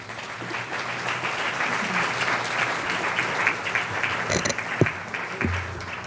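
An audience at a community church program breaks into sustained applause, a dense and steady clapping that holds at a fairly loud level from start to finish.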